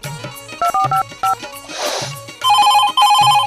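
A telephone rings in a comedy sketch, giving short repeated electronic bursts of tones in a steady pattern, close and fairly loud, with a brief noisy rustle in the middle.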